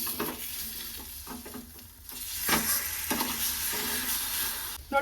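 Egg omelette with coriander leaves sizzles and fries in a pan as it is stirred and flipped, a steady broadband hiss with scraping bursts, close and alone with no talking.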